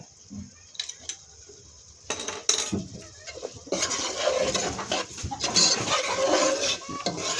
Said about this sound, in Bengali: এটা দিয়ে ভালো করে নেড়ে দিবেন